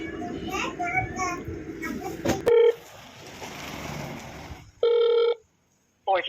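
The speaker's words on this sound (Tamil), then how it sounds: "இப்போ கேமரா வந்து ஆன் பண்ணிடலாம்" A solar-powered CCTV camera powering up gives out electronic startup beeps, a steady tone burst and then a stepped chime, over background chatter and children's voices in an outdoor setting.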